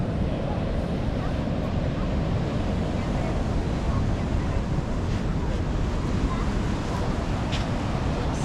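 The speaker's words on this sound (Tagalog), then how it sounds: "Ang grabe laki ng alon dun oh." Large ocean waves and surf roll continuously along a New South Wales coast, a steady broadband wash with strong wind buffeting the microphone throughout and no distinct breaks.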